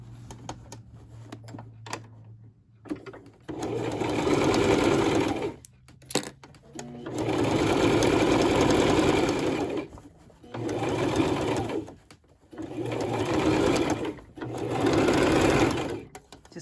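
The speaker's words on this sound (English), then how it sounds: "And then you're gonna sew this bottom stitch." A sewing machine stitches the bottom seam of a fabric face mask with adjustable ear loops, running in four long steady bursts separated by short pauses, close and fairly loud, with a faint low hum between runs.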